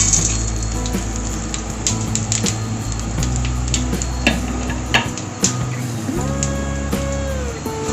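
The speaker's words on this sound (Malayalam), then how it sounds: "ഇതിലേക്ക് ആദ്യമേ നമ്മുടെ സ്പൈസസ് എല്ലാം ചേർത്ത് കൊടുക്കാം" Whole spices fry in a hot pan at the start of a Kerala-style beef stew, a loud continuous sizzle and crackle with scattered ticks and knocks of a utensil, no talking.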